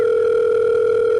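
A telephone tone sounds loud and close, a steady unbroken electronic hum lasting the whole moment with no voices.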